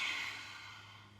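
A forceful yoga lion's-breath exhale pushed out through an open mouth, one breathy sigh-like rush that starts strong and fades away over about a second.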